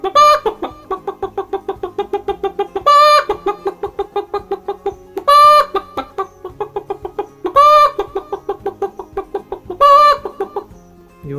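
A voice imitates a chicken's alarmed clucking reaction, as when a jackal or crow comes after the hen: rapid rhythmic clucks, broken about every two and a half seconds by louder drawn-out squawks, close and loud.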